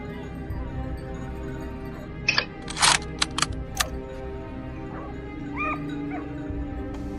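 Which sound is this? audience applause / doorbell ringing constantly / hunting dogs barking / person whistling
hunting dogs barking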